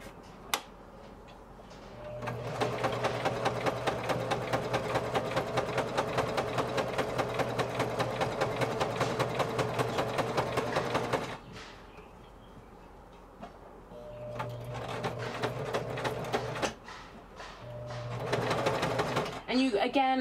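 A sewing machine stitches steadily over pleated fabric in a contemporary classroom, its rapid needle chatter running loud and continuous, stopping, then resuming in shorter bursts.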